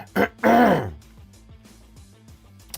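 A person coughs and clears their throat in two quick, close bursts, followed by soft background music.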